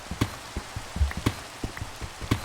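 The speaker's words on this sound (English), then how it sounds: "Oh, it's raining." Rain in Minecraft falls as sparse, distinct droplet taps and soft patters at a fairly even rhythm, quiet and close, with no talk over it.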